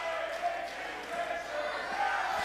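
A wrestling crowd at a 2CW show chants during a Davey Richards vs. Alex Shelley match, the arena split between the two men; dense, steady crowd noise at even loudness throughout, with commentary voices underneath.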